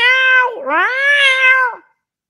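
A person gives a loud, drawn-out meow in imitation of a cat, two rising-falling cries joined together, then silence.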